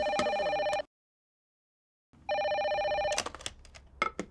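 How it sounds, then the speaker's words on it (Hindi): A telephone rings loudly and close in a steady electronic trill, cuts out for over a second, then rings again, with a few clattering knocks toward the end. "अरे फोन उठाओ ना।"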